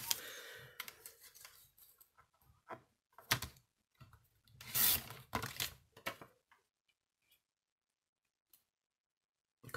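Scissors snipping paper scraps for a handmade vintage-style card, a series of close, crisp cuts in short clusters, then quiet with a few faint clicks.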